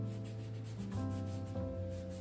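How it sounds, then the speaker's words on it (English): A pencil eraser scrubs back and forth over sketchbook paper in quick, soft, close rubbing strokes, steady under quiet tonal background music. "I'm trying to erase the dark marks but still have detail"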